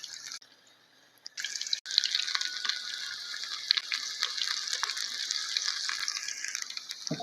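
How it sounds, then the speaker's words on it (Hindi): Pakoras frying in medium-hot oil give off a steady, close sizzling hiss with scattered crackles and pops, following a brief quiet start. "अभी मैं पकौड़े फ्राई करने लगा हूँ"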